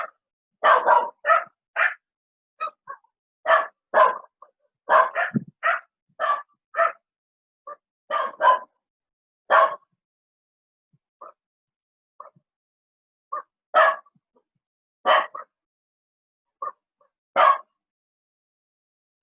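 Several dogs bark off in the background in irregular volleys of sharp yaps, some clustered and some single, continuing throughout at moderate loudness with brief pauses and no speech.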